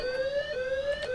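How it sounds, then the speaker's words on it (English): An alarm in the video game Thief Simulator: a steady electronic tone that rises and falls in a repeating warble, sounding continuously and alone with no talking. "I reckon they've probably got some kind of alarm mechanism that is going to get quite upset with me if I do this."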